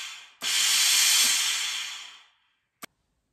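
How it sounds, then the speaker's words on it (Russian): Steam from a Bieffe BF-Mini 3 steam generator iron bursts out in one strong, steady hiss lasting about two seconds, then fades away, followed by a brief click. "Ну и пар, соответственно."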